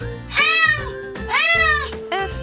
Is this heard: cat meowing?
yes